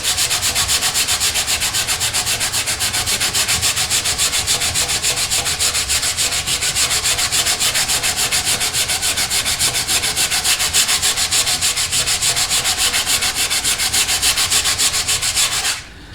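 Hand sanding of lacquer with 120 and 80 grit sandpaper gives a fast, steady back-and-forth scratching, rapid and even strokes that run close and loud without pause until a brief stop at the end.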